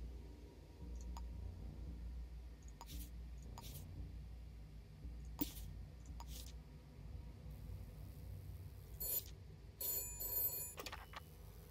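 A payphone rings in the detective video game Shadows of Doubt, with faint intermittent ring bursts and clicks, then louder trilling rings near the end, all quiet under a low steady hum.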